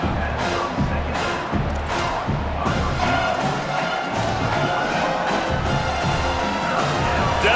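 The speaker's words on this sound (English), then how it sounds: "Decibels rising as the crowd gets behind this defense on 3rd down" Stadium crowd roaring steadily in EA Sports College Football 27 as fans rally behind the defense on third down, a dense, continuous wall of cheering with a few thumps and whoops rising through it.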